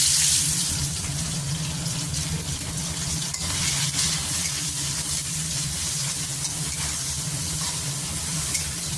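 Chopped onions fry with whole garam masala in a pan, giving a steady, even, hissing sizzle that carries on without a break and with no talking.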